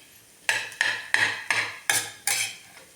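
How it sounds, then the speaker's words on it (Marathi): Chutney being stirred and sautéed in a pan over medium heat, a spoon scraping and knocking in six evenly spaced, sharp strokes, close and distinct with no talk. "1 मिनिटभर अशी चटणी परतून घ्यायची मिडियम गॅसवरती."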